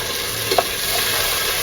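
Fresh spinach tipped into a pan of onions already frying in oil for spinach pulao, giving a steady close sizzle with a brief clatter and stirring burst just over halfway through.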